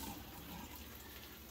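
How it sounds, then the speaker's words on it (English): A tap runs steadily to soak something, a faint continuous hiss of flowing water with no voices. "Turn the water on and just soak it."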